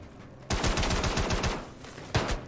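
Rapid automatic gunfire from a weapon in the Star Citizen video game, a loud close burst of evenly spaced shots that stops briefly and then resumes.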